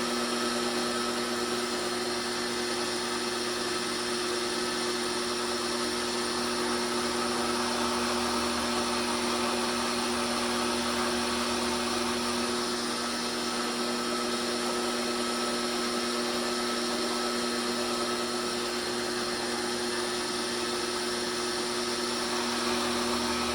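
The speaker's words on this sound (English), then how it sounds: "And I am also going to put a small countersink on the top side as well." A power drill runs steadily while cutting a small countersink into a tripod part during re-shoeing, a continuous whirring hum with strong tonal bands, close and fairly quiet, with no talk over it.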